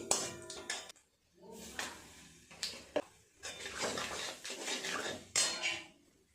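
Dried red chilli, bay leaves and whole cumin tempering in a pan for a pangas fish curry, stirred with a utensil: close, bursty scraping and clinking in several short bouts, fairly faint overall.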